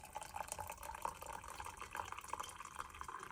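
Freshly brewed coffee poured from a Cuisinart Automatic Grind & Brew carafe into a cup, a faint, steady trickling stream that runs unbroken for a few seconds.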